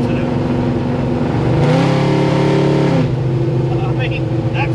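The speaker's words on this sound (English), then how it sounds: "You barely tap the gas and it'll get sideways in the road." A Ford F100 race truck with a 429 Hemi engine revs up loudly, its rumble swelling for a second or two before settling back to a steady, close idle.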